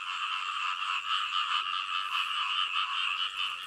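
Many frogs croak together in an unbroken, pulsing chorus, the kind caught for food. The sound is steady and moderately loud throughout, with no other sounds standing out.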